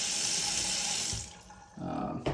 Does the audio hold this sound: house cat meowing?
no